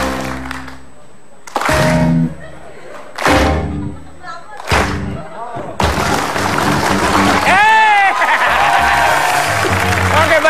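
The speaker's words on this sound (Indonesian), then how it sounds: "saya pengen setiap hentakan kaki saya ada tepuk tangannya" A television studio audience claps and stomps in rhythm, loud bursts of heavy thuds with applause, then sustained clapping and cheering as music plays underneath.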